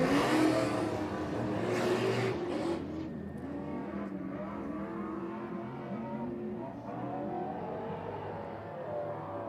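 A loud, raw race car engine roars and revs up and down, harsh and unmuffled, with the pitch rising and falling throughout.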